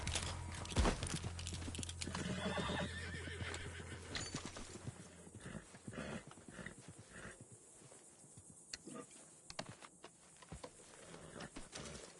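A horse in Red Dead Redemption 2 whinnies loudly near the start, followed by steady clip-clopping hooves and snorts that continue over a low rumbling game ambience.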